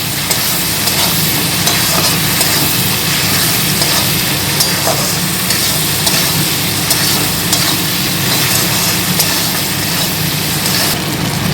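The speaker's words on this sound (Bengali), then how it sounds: "পরিমাণ মতন হলুদ, সর্ষে বাটা, 2 টিস্পুন পরিমাণ সর্ষে বাটা। খুব ভালোভাবে নেড়ে নেব।" Turmeric and mustard paste stirred in a hot pan produces a dense, loud, continuous sizzle with a faint low rumble beneath, steady throughout and without voices.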